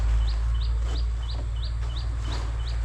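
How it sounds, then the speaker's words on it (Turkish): Regular, repeated high chirping calls from chickens and roosters over a loud, steady low hum at a poultry farm. "Burası bir çiftlik tavuk çiftliği."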